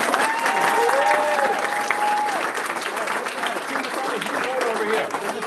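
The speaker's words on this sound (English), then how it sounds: "All right, round of applause." A room of parents and guests at a school board of directors meeting gives a round of applause, steady clapping that runs throughout while people talk and call out over it.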